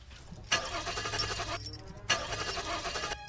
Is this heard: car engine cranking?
yes